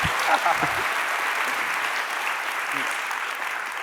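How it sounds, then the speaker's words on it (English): Audience applause for special guest KAWS at an evening conversation event, steady clapping throughout with a few louder claps at the start, fairly close and continuous. "maybe one more round of applause for our special guest"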